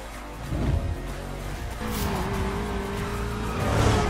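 BMW car driving in Need for Speed Payback, a loud engine roar with rising revs and a tire squeal, a close, steady racing drone that swells toward the end.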